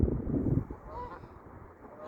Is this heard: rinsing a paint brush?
no